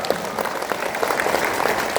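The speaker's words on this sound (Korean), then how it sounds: "같이 한번 박수 한번 치도록 하겠습니다" An audience claps together, a steady wash of many hands applauding for a couple of seconds without any voices over it.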